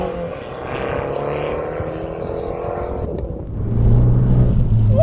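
Abarth 595, a turbocharged Fiat 500, accelerating on the road: a steady engine drone that swells louder and heavier partway through, with no voices.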